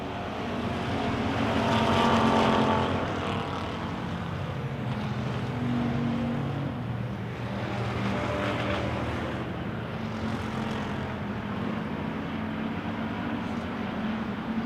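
Wissota Pure Stock race cars roar around a speedway oval at a July 4th feature, a sustained engine drone that swells and eases as the pack passes, heard from a distance without talk.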